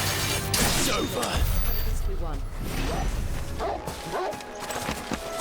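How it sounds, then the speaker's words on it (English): A dog barks and yips repeatedly in Final Fantasy XVI over a busy, noisy background with thuds and clanks, while someone talks. "What, Toriel barking at something specific?"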